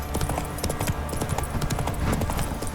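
Hoofbeats of the horse Roach galloping in Witcher 3: Wild Hunt, a quick, rhythmic clip-clop at moderate distance, steady and unbroken, with faint ambient sound underneath.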